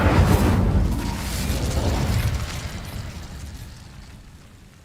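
Incendio fire spell in Hogwarts Legacy bursting into flame against dry vines: a loud whooshing blast that rumbles and crackles, then slowly dies away over a few seconds.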